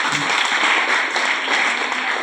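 Audience applause for a band at a network marketing event, a dense steady wash of many hands clapping, fairly loud and continuous throughout.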